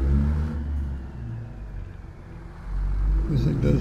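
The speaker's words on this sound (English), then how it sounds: "This thing does have Z-Mod's C16 800 horsepower Caterpillar with an 18 speed." Kenworth truck in American Truck Simulator with an 800-horsepower Caterpillar C16 engine and 18-speed gearbox, a steady low diesel rumble that swells as it pulls, with a voice talking over it.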